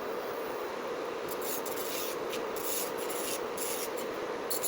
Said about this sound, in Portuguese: Pego essa mesma broquinha. Eu gosto de fazer a parte de baixo com ela.